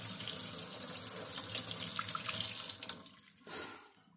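Tap water runs steadily into a sink, rinsing a wine hydrometer, a continuous close splashing hiss that cuts off near the end, followed by a brief final gush.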